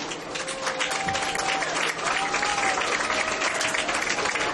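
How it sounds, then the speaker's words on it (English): A crowd at a high school senior night recognition before the Pineville vs Jenkins game claps loudly and continuously, with a few thin whistles and cheers rising over the dense applause. "a round of applause for Callie and the cheerleaders."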